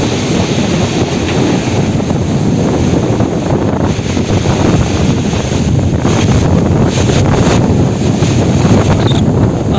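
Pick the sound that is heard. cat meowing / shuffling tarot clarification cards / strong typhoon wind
strong typhoon wind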